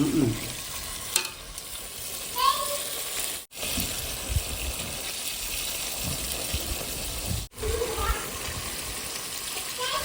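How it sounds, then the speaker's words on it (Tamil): Masala sautés in oil in a pan after water is added, giving a continuous loud sizzle and bubbling with stirring scrapes throughout, briefly cut off twice. "தண்ணி அந்த மசாலால எப்படி வதங்குது பாருங்க அந்த மசாலாலே நல்லா வதங்கணும்னா நம்ம தண்ணி ஊற்றிக்கலாம்"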